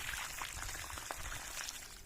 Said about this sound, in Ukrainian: Тепер заливаю водою